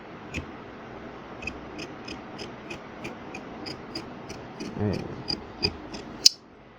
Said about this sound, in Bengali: ওই ডিজাইনে আমরা গলাটা কেটে নেব